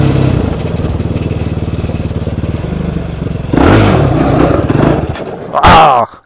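A motorcycle engine revving at night, a steady low throb for several seconds, then louder, rougher bursts of throttle near the end before cutting off.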